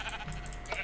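A sheep in a Minecraft mod bleats in short, quiet bursts, a few wavering calls close by with no talk over them.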